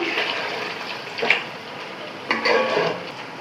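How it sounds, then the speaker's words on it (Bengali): Water runs into a cooking pot for khichuri, a steady pouring rush with a couple of brief splashy surges partway through, close and fairly loud with no talking. "তো আমি এখানে 5 কাপ পরিমাণে পানি দিয়ে দিলাম।"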